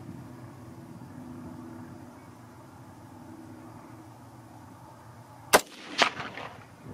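A single sharp rifle shot from a 6.5 Grendel with a 24 inch barrel, fired outdoors at varmints, cracks out near the end after a stretch of quiet wind and rumble, followed by a brief echo or second report.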